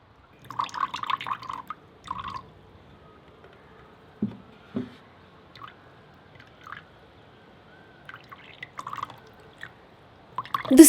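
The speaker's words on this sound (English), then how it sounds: "Once pounded well, take it in a strainer and strain to get a smooth juice." Pounded skin-glow juice dripping through a strainer, with scattered soft drips and small splashes landing in a container, close and quiet, separated by irregular pauses.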